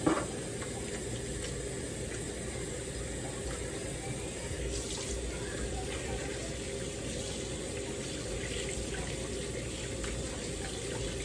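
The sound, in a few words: tap water running while washing hands at the sink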